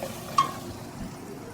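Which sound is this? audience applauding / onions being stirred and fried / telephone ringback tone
onions being stirred and fried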